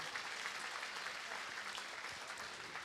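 At a senior kindergarten graduation ceremony, the audience claps in sustained, even applause from start to finish, heard at a distance and moderately faint.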